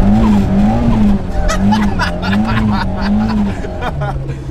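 A Ford Sierra RS Cosworth's engine roars steadily while its tires squeal in long wavering tones on wet roads, loud and close throughout.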